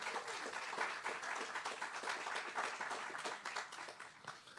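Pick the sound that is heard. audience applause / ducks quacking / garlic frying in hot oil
audience applause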